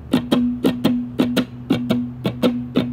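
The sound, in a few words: 3-string cigar box guitar strummed in accented 4/4 swing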